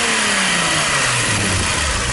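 A VW Golf 2 fitted with a VR6 engine revs up loud and close, its pitch climbing then easing back through a continuous roar, with no talking over it.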